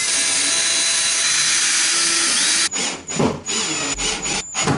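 Power drill boring a small pilot hole into wood furniture, set to its lowest speed: a steady continuous whir at close range for a few seconds, then stopping into brief clatters and handling knocks.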